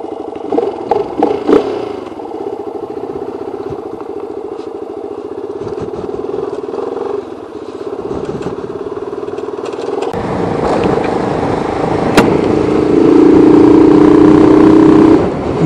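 Motorcycle engine droning steadily while riding before dawn, close and loud, with intermittent clattering and wind bumps, the engine note rising and growing louder in the final seconds.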